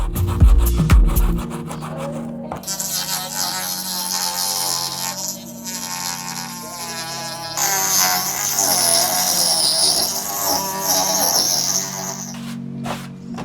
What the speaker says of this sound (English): Next up, sand it down to fine tune it